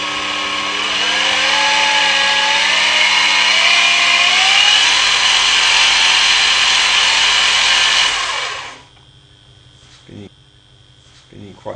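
A lathe fitted with a modified spindle box runs at a steady whir for about eight seconds, loud and smooth, then spins down to near silence with a few faint knocks.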